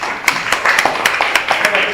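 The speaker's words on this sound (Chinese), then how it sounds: "掌声鼓励一下。" A lecture hall audience gives a short burst of applause, a quick run of sharp claps that fades within two seconds.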